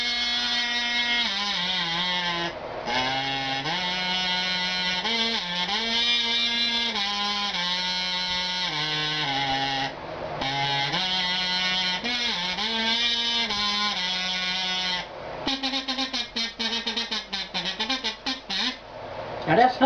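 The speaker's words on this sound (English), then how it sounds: "Now that's humming into it like you would a regular kazoo" A voice hums into a Spirit Chaser kazoo, giving a loud, continuous buzzy tone with shifting pitch over about twenty seconds, broken by a few brief pauses.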